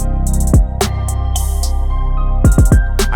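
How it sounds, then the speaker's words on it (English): Rim sample number 8 from the Lifestyle Did It R&B Essentials drum kit, laid into a beat: short crisp rim clicks repeat among punchy low kicks and steady sustained tones, loud and close with no talking. "It's gonna be rim 8 out of the Lifestyle Did It R&B Essentials drum kit."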